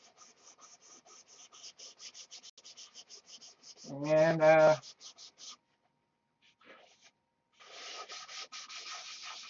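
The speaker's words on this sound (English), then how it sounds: "We're back on sanding this DC 540" Steady rhythmic sanding strokes rasp across a DC 540 model during paint prep, pausing briefly while a voice speaks, then resuming close and moderately loud.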